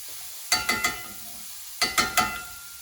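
Minced garlic and diced onions are stirred in a pan, two quick bursts of three soft scraping strokes each, separated by a quiet pause, with faint frying underneath.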